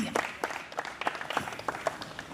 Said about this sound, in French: Applaudissez pour les 6, s'il vous plaît.